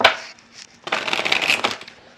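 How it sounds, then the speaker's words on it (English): Tarot cards shuffled by hand in a quiet room, a faint riffle followed by a longer burst of crisp, fluttering card noise, close and fairly loud with no talking. "So let me shuffle the cards."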